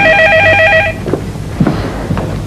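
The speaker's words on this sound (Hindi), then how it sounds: "देखो फोन है," A telephone bell rings in a steady double-pulse pattern for about a second in a domestic drama scene, then cuts off, leaving quiet room tone with faint thumps.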